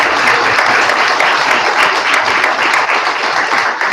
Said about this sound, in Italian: veramente facciamo gli applausi